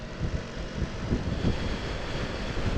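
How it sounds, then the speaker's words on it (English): On a breezy day atop a flyover, crosswinds buffet the microphone in a constant, rough low roar that swells and dips slightly, with no talking. "whilst you're on the top of that flyover, you're getting crosswinds, but it is a hell of a breezy day today"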